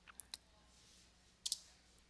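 A computer mouse button clicks a few times, sharp and close, with two single clicks followed by a quick double click in a quiet room.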